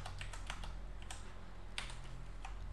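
Someone types a console command on a computer keyboard in a quick run of soft, close key clicks with brief pauses. It is quiet, with no voice over it.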